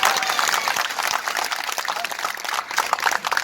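Crowd at an outdoor political rally in Rampur clapping continuously, a loud, dense patter of many hands with some crowd noise mixed in, steady for the whole stretch.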